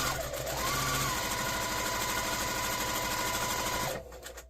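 Sewing machine running steadily as it top stitches a fabric cover for a reusable heat pack, a loud continuous whirring hum that stops abruptly near the end.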